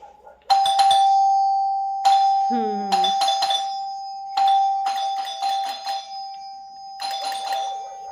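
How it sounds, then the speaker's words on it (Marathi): A newly installed home doorbell chimes again and again in sharp, loud bursts with short gaps, and a voice is briefly heard between rings. "आपली बेल सक्सेस झाली"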